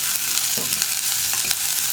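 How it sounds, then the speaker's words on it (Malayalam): Onions and green chilies sauté in a pan for tomato theeyal, giving a steady soft sizzle with faint stirring scrapes throughout, close and moderately loud, with no talking. "ഇനി സവോള ഒന്ന് നന്നായിട്ട് കുക്ക് ചെയ്തെടുക്കണം"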